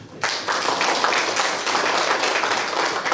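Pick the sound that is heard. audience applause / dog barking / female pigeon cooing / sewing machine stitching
audience applause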